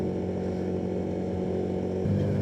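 Steady motorcycle engine drone while riding along the Southern Cross Road (Jalur Lintas Selatan) in the late afternoon, close and continuous with constant wind and road noise and a slight rise near the end.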